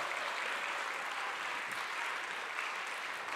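An audience applauds after a youth orchestra's regular concert in Chungju, a steady, fairly faint wash of many hands clapping in a hall, with no voices over it.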